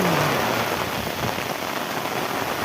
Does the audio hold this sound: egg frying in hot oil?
no